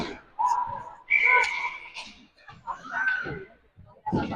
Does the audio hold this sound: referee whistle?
yes